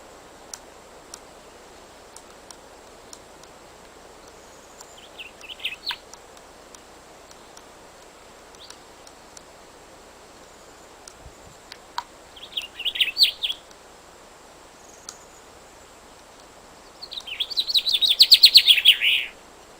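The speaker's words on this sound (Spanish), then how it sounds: "el reclamo de los pinzones de Gran Canaria es un reclamo concreto" Gran Canaria blue chaffinch calling and singing outdoors: brief faint chirps early on, then clearer trilled bursts around the middle, ending with a louder, denser song phrase near the close over quiet background hiss.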